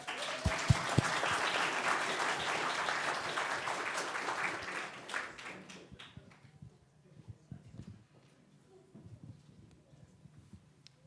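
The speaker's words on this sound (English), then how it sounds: "A round of applause for Makita" Applause for a presenter at a university business competition, dense and loud at first, then thinning into scattered claps and fading by the halfway point, with a few isolated claps afterward.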